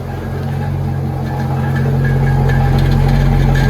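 A Ford F150 pickup idles with a rattle somewhere in its exhaust, giving a steady, close, buzzing engine hum that grows slightly louder over a few seconds, with no talking.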